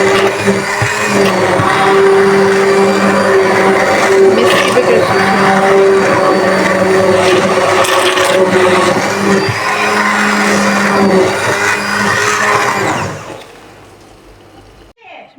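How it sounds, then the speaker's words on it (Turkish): A loud blender whirs steadily for several seconds as it purées lentil soup, with a voice speaking over it, then the motor stops and it goes quiet. "Şimdi en son bir blenderdan geçiriyorum."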